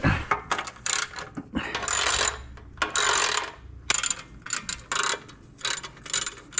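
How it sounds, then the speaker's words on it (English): A 3/8 ratchet with a size 10 socket loosens a bolt on a Honda CT90 motorcycle, making close, quick bursts of clicking pawl ratcheting. The bursts come in uneven runs separated by short pauses, with no speech. "I'm going to be taking my 3/8, putting it in a size 10 socket."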